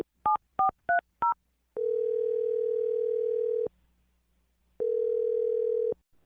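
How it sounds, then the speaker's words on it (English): Telephone keypad tones: four quick dual-tone beeps in a row, then a steady dial tone held for about two seconds, a pause, and a second shorter stretch of the same tone, clear and close with no talk. "I'm going to dial his phone number right now."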